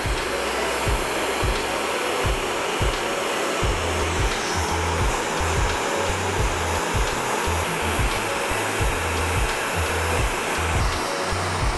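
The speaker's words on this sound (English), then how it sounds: "So now with low heat, low airflow, I'm gonna start just blow drying." A hair dryer set to low heat and low airflow blows steadily while drying a beard, a continuous close whoosh with a pulsing low hum, running alone without speech.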